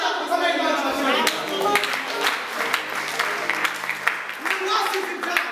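A church congregation at a service in Mozambique claps together, a dense, rhythmic burst of applause that carries on under a speaking voice.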